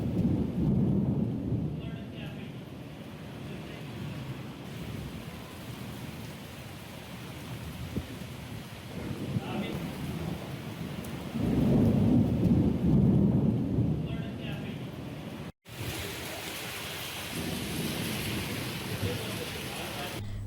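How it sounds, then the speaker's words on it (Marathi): Heavy rain pours steadily over Kankavli taluka in Konkan, with deep rumbles of thunder swelling around the middle and near the end; a brief dropout breaks the continuous wash of rainfall. "तालुक्यातही काही ठिकाणी पावसानं थैमान घातलंय"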